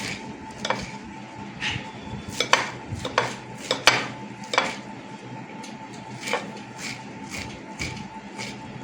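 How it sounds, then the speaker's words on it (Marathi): Washed fenugreek (methi) leaves being chopped with a knife on a board, a series of sharp, fairly close taps at an irregular rhythm over a soft rustling background. "आता आपण कट करून घेऊ जरा मेथी"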